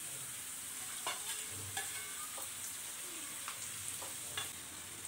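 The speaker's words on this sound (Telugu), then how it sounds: "ఇప్పుడు ముందుగా వేయించుకున్నవి ఇవి కూడా మళ్ళీ ఒకసారి ఇందులో వేసేసి వేయించుకుందాం" Carrots and pre-fried ingredients sizzle steadily in hot oil in a pan while being stirred, with light scraping clicks of the utensil over the continuous frying hiss.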